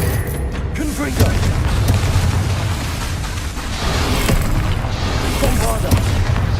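A Confringo fire spell goes off in Hogwarts Legacy as a heavy booming blast, with rumbling bursts and crackling debris layered over ongoing game combat effects.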